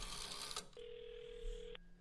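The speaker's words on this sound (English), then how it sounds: "It's a phone." A phone rings with a single steady electronic tone lasting about a second, clear and close, after a burst of broadband noise.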